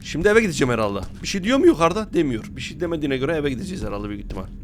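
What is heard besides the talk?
None of the usual background noises is heard.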